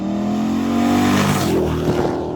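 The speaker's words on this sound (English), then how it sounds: "LT1 sound absolutely brilliant." A 1971 Chevy C10 restomod with an LT1 V8 accelerates on a highway, a loud rising engine note building steadily from inside the truck before the revs settle.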